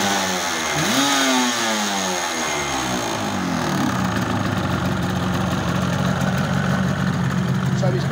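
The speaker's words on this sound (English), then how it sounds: "It's a great engine, it sounds lovely." A freshly cleaned and painted rebuilt engine with new piston rings runs steadily near the microphone, a brief rev rising then settling into an even, continuous idle with a rhythmic mechanical beat.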